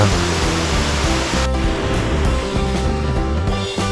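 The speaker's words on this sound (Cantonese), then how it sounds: "不過每逢雨後，瀑布都會顯得十分壯觀，值得一嚟㗎" The Little Hawaii waterfall on a hiking trail near Tseung Kwan O, Hong Kong, roars as a loud, steady rush of falling water close by, with no voices.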